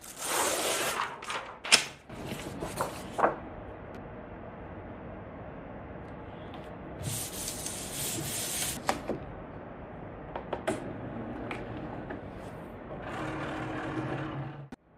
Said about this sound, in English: I can go ahead and load my cardstock onto my mat and insert my mat into my machine.